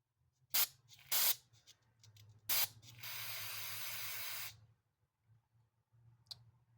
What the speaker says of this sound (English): So we got our carb cleaner.